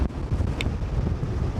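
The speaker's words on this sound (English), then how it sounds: "The wind slowly built in strength and did indeed reach the predicted high of 37 knots." A strong Meltemi wind of up to 37 knots gusts around a boat at anchor, a steady loud roar buffeting the microphone.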